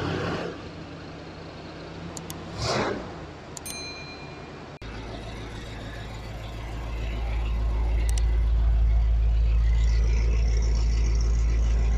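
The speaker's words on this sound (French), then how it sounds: "là on a une petite Camaro là qui sort du garage" A Chevrolet Camaro pulls out of a garage, its engine rumble swelling from a low idle into a loud, sustained deep roar that fills the second half, after some scattered clanks and brief talk.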